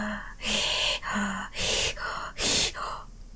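A voice imitates a monster's heavy panting, a mouth-breather with an overbite: about five loud, breathy huffs in a steady rhythm, close up, with no speech.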